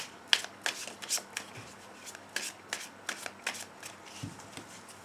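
Tarot cards being shuffled and cut by hand: a string of crisp, close riffling bursts and soft slaps in an uneven rhythm, with a low thump near the end and no talking.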